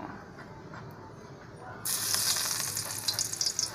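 Garlic hits a hot pan for a Filipino monggo dish and starts to sizzle loudly, the frying hiss jumping up partway through and crackling steadily with small pops.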